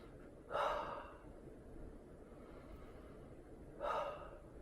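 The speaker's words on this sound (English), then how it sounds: "Just breathe for a few seconds" Someone breathes slowly and deeply at close range, two distinct audible inhales about three seconds apart over a faint, quiet background.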